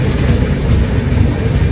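The Kumbh Express passenger train rumbles along the rails at night, producing a loud, steady low roar with a faint rhythmic clatter, heard close up throughout.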